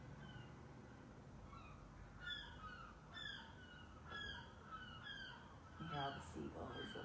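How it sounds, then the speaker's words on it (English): Seagulls call repeatedly at a distance with short, mewing cries that come in bursts over low background noise outdoors. "You hear all the seagulls that are all over the place."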